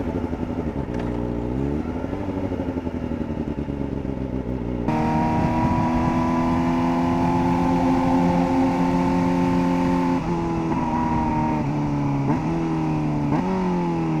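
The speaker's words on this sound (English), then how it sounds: "so I can rev up and see what it feels like, or what it sounds like." A Kawasaki ZX-4RR motorcycle with a full exhaust idles, then revs up loudly with a deep, raspy exhaust roar that rises and falls in several surges, echoing as if enclosed.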